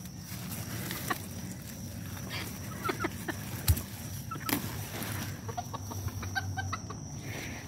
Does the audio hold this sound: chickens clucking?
yes